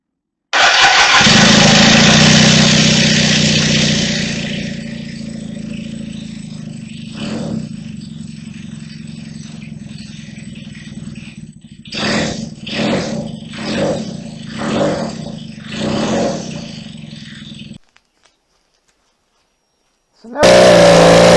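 A Kawasaki KZ400 motorcycle engine with the choke on cranks and catches, settling into a loud, rough idle that fades and then revs in several short blips before cutting out. Another loud burst comes at the very end.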